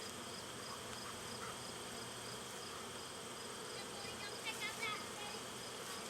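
Honey bees buzzing around a strong backyard hive, a faint steady drone with a few individual bees passing close, no clear speech.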